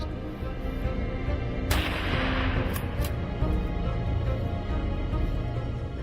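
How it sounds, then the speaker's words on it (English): A rifle shot rings out during a wild boar hunt as a single sharp report, followed by a rumbling echo that rolls across open terrain. Steady outdoor ambience continues underneath. "a teammate's shot rings out"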